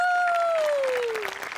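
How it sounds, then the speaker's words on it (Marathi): Studio audience applause on the Marathi comedy stage show Maharashtrachi HasyaJatra, greeting the songwriter-composer duo Sachin-Kishor. A sustained gliding tone fades out as the clapping builds into a steady, fairly close wash. "त्यांच्यासाठी टाळ्या वाजूया"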